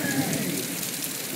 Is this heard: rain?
yes